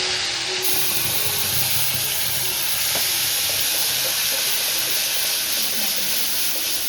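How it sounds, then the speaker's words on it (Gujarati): Tomato and onion gravy hits hot oil tempered with bay leaves, curry leaves, chilli and turmeric, giving a loud, steady sizzle and steamy hiss that carries on throughout, with a faint clatter partway through. "ત્યારબાદ ટમેટા અને કાંદાની ગ્રેવી નાખી દઈશું."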